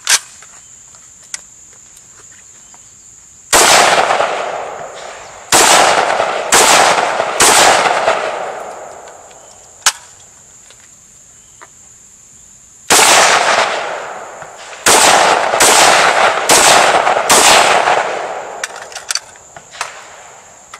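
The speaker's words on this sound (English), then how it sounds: "let's throw some rounds down range." SIG 556 Patrol rifle fired outdoors: about ten sharp, loud single shots in two clusters, each cracking and then fading, with a steady insect-like whine in the background.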